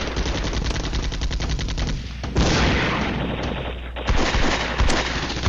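Tank and infantry gunfire in a war strategy game: rapid overlapping machine-gun bursts and heavy cannon booms, loud and continuous, with sharper blasts near the end.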